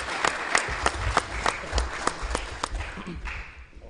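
Audience applause at a live podcast taping for a Masonic-themed celebration, with sharp individual claps standing out over a steady near wash of clapping that thins toward the end.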